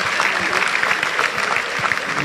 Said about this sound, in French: May we give a hand clap to the Lord.